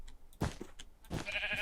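A sheep in a video game gives a pair of short, faint bleats amid soft background game sounds, each with a brief wavering tail.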